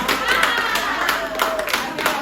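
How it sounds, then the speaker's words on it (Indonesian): Pupils in a sociology classroom clap briefly together at a teacher's prompt, a short burst of scattered, uneven hand claps close by. "Ya, tepuk tangan."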